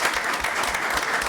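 Staff members applaud visiting citizens at a public presentation on a federal lands access grant, steady close clapping filling the whole moment without pause.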